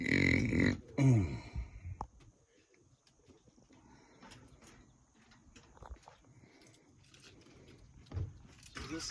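Keys jangle briefly up close at the start as a common CH751 key is handled beside an RV, then a quiet outdoor stretch with faint bird coos and a short rattle near the end.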